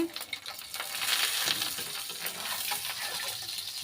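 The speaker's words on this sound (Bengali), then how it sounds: "ডিম পোস্ট করা হচ্ছে এখানে" Eggs frying on a home stove, a steady close crackling sizzle with faint metallic clinks running throughout, no talk over it.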